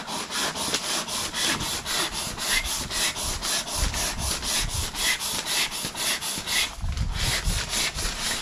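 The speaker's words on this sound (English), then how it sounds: "We're just going to sand this down now." A flat sanding pad rubs across a car body panel during a smart repair, giving a steady rhythmic scraping with regular strokes, close and loud, with no talking.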